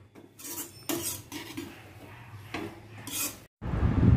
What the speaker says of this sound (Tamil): இப்படி நல்லா நெய் விட்டு கேரட்டை நல்லா வதக்கிடணும்.